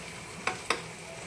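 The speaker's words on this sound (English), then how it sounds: "we're just gonna let this simmer a little bit in the oil so the onions can get sweet" Purple onion cooking in oil in a frying pan, with a soft steady sizzle and two brief scrapes of stirring close by, no voices.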